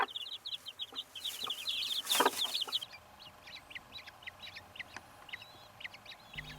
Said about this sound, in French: Les petits de la poule sont nés.